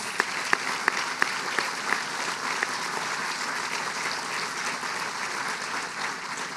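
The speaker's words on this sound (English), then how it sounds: "let's give those folks a big round of applause" At a school grand opening ceremony, an audience gives a round of applause, starting with a few sharp distinct claps that quickly merge into a steady, even wash of clapping.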